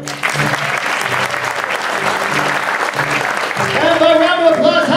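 Steady applause from a large audience, dense clapping throughout that swells slightly louder near the end.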